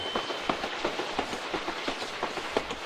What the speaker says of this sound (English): The purple train car chugs down the track.